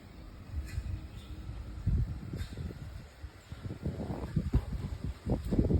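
Wind blows outdoors in a garden with papaya trees, coming as uneven gusts of low rumbling microphone buffeting that rise and fall over a faint steady background.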